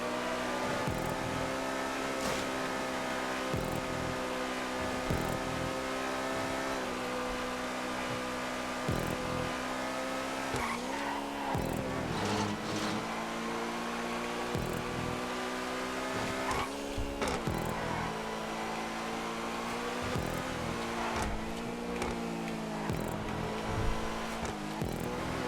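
Steady engine drone of a car driving on a race track in GTA 5, holding a sustained mechanical hum with small shifts in pitch and occasional revs throughout, with no talking.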